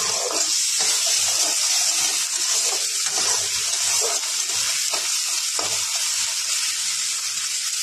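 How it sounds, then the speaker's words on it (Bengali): Potatoes fry in a pan with ground coriander, cumin and ginger paste, giving a loud, continuous sizzle with occasional scraping and stirring knocks. "আমার আলুটা পুরো ভাজা হয়ে গিয়েছে।"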